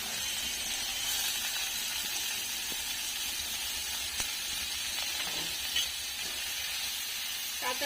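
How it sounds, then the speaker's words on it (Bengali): Onions frying steadily in a pan, a continuous bright sizzle and hiss with a few faint clicks of stirring, close and alone with no talk. "পেঁয়াজটা সামান্য পরিমাণ একটু ভেজে নেব"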